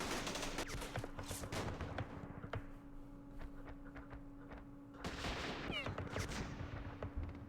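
Repeated bursts of gunfire strike a bunker in the Campaign Series Vietnam war game, set in the Dien Bien Phu battles. Sharp shots crack over a steady low hum, with a heavier cluster of blasts near the end.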